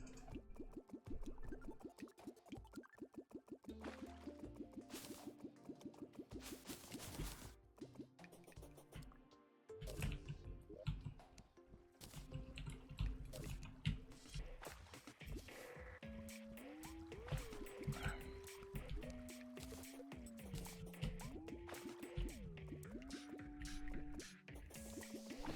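A super absorbent sponge drains bodies of water in Terraria, producing a quiet, rapid series of dripping, plopping liquid sounds over background game music with sliding tonal notes.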